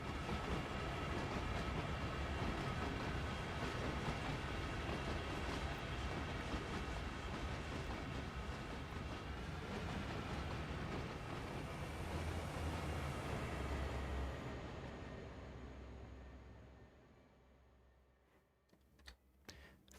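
A train running in Train Sim World 2 on the Cane Creek line, a steady dense rumble and rattle that fades out toward the end, followed by a few sharp clicks.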